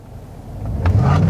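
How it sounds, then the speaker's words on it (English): 2019 Chevrolet Silverado Z71 engine in race mode as the throttle is feathered from a stop, a low idle rumble that swells into a deeper, louder growl. "I just feathered the throttle in right there"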